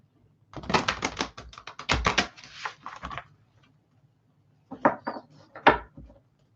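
Tarot cards riffle and shuffle in two bursts of quick, dry papery clicks, the first longer and busier, then a pause before a shorter second flurry, close and alone without talk.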